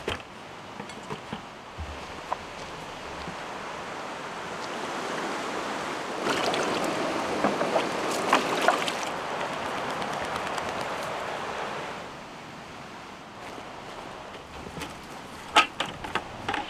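A creek flows steadily beside a campsite where a cargo trailer is parked, giving a constant broadband wash of moving water at moderate level, with a few faint clicks and rustles and no one talking.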